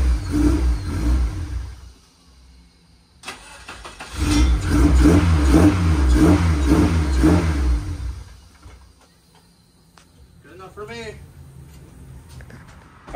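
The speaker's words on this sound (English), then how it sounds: "Try to fire this thing up." A Honda K24 four-cylinder engine that had been pushing coolant cranks, catches and revs up hard in close surroundings, settling back to a steadier run, with people talking briefly afterward.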